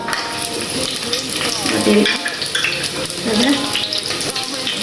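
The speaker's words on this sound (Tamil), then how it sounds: "அடுத்து இது பொரியுது கடுகு" Mustard seeds splutter and pop in hot oil while a tin fish curry is cooked, a crackling sizzle with scattered sharp pops and a voice talking over it.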